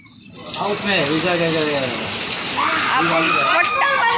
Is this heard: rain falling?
yes